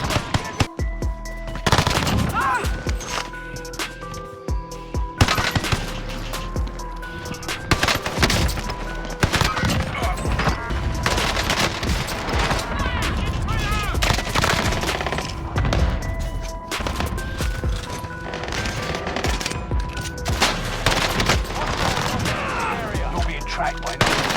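Call of Duty Warzone gunfire, loud rapid automatic bursts rattling almost nonstop, with booms and thuds mixed in and occasional game voice lines.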